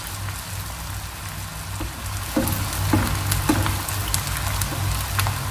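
Vegetable manchurian balls deep fry in oil over a medium-to-low flame, giving a steady crackling sizzle with scattered pops and a slight swell partway through, heard alone and fairly close.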